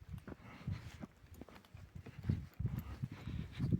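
Hooves of a mare clip-clop at a walking pace toward a shore in winter snow, soft and irregular, fairly faint against quiet forest background.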